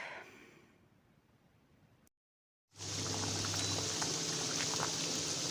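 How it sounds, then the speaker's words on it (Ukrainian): Quiet hiss, a short silence, then a pot of salted water for pasta at a rolling boil, bubbling steadily and close by. "Киплячу воду солимо, всипаємо пасту і відварюємо."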